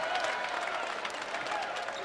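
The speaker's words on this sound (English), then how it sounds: "the Mean Green fans now getting up on their feet, applauding what is happening here late in the second half" North Texas Mean Green basketball fans in an arena, on their feet late in the second half of a game against MTSU, keep up a steady wash of clapping and crowd noise that fills the hall.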